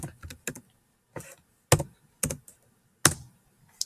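A formula being typed on a computer keyboard: sparse, close key taps in short clusters with brief gaps between them, fairly quiet, with no speech.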